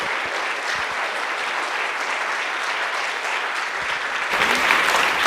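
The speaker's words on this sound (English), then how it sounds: "A round of applause for them." An audience at the EEA 30-year anniversary conference applauds steadily as panelists join the stage, a dense even wash of clapping that swells slightly toward the end.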